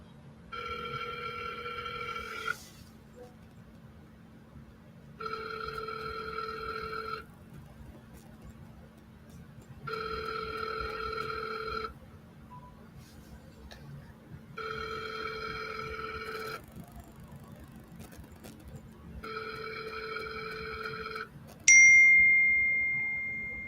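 A telephone ringing back on an outgoing call, five evenly spaced electronic ring bursts about two seconds long separated by pauses, clear and steady over a low hum, ending with a brief high tone.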